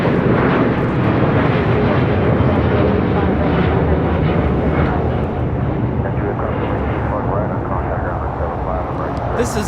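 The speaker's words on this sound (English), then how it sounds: "This is LL Flight 6 taking off to Tel Aviv on a 787-9 Dreamliner" Boeing 787-9 Dreamliner airliner climbing away on takeoff at LAX, a loud broad continuous roar holding steady for ten seconds with no break.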